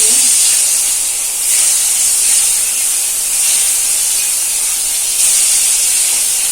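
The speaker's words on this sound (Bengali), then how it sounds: "যে এখন বেগুন ভাজবো" Eggplant frying in oil in a pan on a rainy day, a loud, continuous hiss and sizzle held steady throughout, close and unbroken, with no voices.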